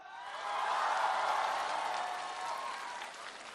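A studio audience at the Singer 2017 televised singing competition breaks into loud, sustained applause that swells quickly and holds steady as a dense wash of clapping with a few faint cheers.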